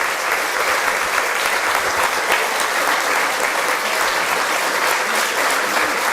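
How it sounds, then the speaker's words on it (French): Loud, sustained applause from a large crowd at a conference, dense and even from start to finish with no pauses. "Vous pouvez commencer par l'applaudir."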